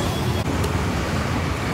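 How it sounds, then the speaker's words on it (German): Steady road traffic from cars, jeeps and SUVs around Central Market in Phnom Penh, a continuous loud rumble of engines and tyres with a brief click near the start. "Hier ist viel los. Autos fahren rum."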